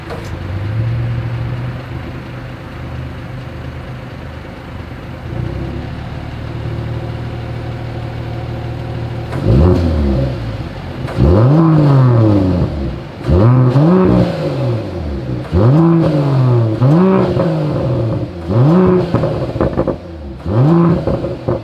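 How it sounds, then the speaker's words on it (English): A 2021 Mercedes-AMG GLE Coupe with the AMG Performance exhaust idles with a low rumble, then is revved hard in a series of sharp, loud blips that fall back between each burst. "here is that exhaust clip"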